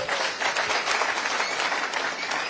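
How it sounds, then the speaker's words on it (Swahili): An audience at a Kenya Kwanza forum with people living with disabilities breaks into sustained, dense applause, steady and loud throughout with no pauses. "Makofi kwa Bridget."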